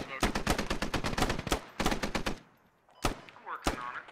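Enemies open up on players in a video game firefight: rapid bursts of machine-gun fire, sharp and loud, in a long volley, then a shorter one, a pause, and two separate single shots.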